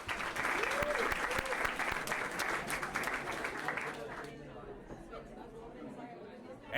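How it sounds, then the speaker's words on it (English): Applause and crowd chatter in the video game Rosewater, a busy round of clapping mixed with murmuring voices that fades into quieter room tone partway through. "Okay, we'll actually applaud at that."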